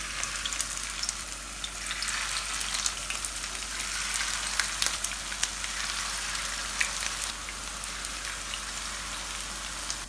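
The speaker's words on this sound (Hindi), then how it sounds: "हमने 1 बाय 1 कबाब लेते जाना है और हमने फ्राई करने के लिए डालते जाना है।" Minced meat kebabs frying in hot oil in a frying pan, a steady close crackling sizzle with scattered pops, continuous throughout with no talk.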